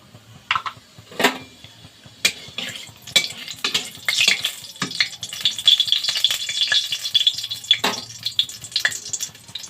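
Cumin seeds crackle and sizzle as they hit hot oil in a pan while palak paneer is being cooked, with scattered popping bursts and stirring clinks over a steady hiss, close up and without talk.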